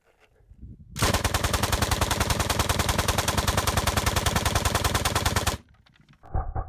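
A DPM machine gun chambered in 7.62x54R fires one long, rapid, evenly paced burst of about four and a half seconds, very loud and close, with quiet before and after.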